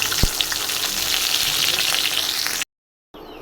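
Chopped onions and chillies for a fish curry hit hot oil in a pan with a loud, dense, continuous sizzle that runs close and steady, then stops abruptly and resumes briefly.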